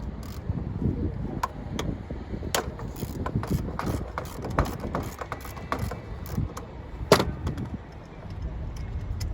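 On a 2013 Nissan Sentra, the alternator bolts are worked loose with a ratchet, giving sharp metallic clicks and scattered clanks at an irregular pace over a low, muffled garage background.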